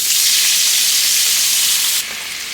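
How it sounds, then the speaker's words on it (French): White wine hits a hot frying pan to deglaze it, setting off a loud, bright burst of sizzling steam that holds strongly and then eases slightly near the end, close up and without speech. "Pour la sauce, je vais déglacer au vin blanc."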